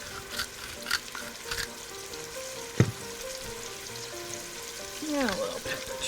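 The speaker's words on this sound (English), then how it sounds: "It's on medium-high heat, and we're going to let our onions get translucent." Onions fry in a pot on medium-high heat, giving a continuous close sizzle with stirring scrapes and one sharp clack, while people talk quietly over it.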